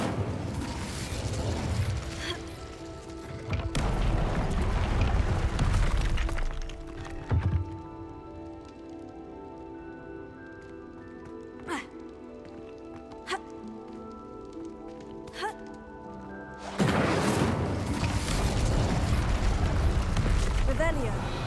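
An Incendio fire spell cast in the Hogwarts Legacy video game, with whooshing, crackling bursts at the start and end framing a quieter stretch of game ambience and sharp clicks.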